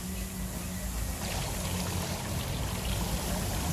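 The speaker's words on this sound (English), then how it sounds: "Another water fountain." Water splashing and trickling steadily from an outdoor fountain in Parque Genovés, a park in Cádiz, Andalusia, a continuous close rushing flow with no voices over it.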